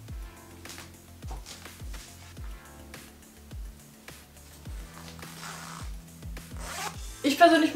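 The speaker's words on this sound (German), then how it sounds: "einfach nur den Reißverschluss zu öffnen und duschen zu gehen" The zipper of a gym sports bra opens in a few quick rasping pulls beneath louder background music with a plucked bass line.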